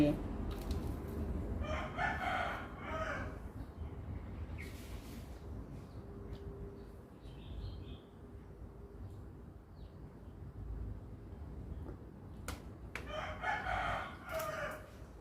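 Roosters crowing loudly among squabbling, fighting chickens in a farmyard, with two crowing bursts at the start and end over a murmur of background clucking and outdoor noise.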